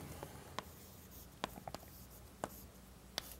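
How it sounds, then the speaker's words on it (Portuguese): Chalk or marker strokes on a board during a university arithmetic lecture, a few sparse taps and short scratches spread over a quiet room, faint and close. "Vou escrever isso."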